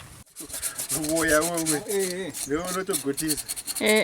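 A cow head being scraped while preparing a traditional African dish, giving close, continuous rasping strokes with a gritty high hiss. A voice talks over most of it.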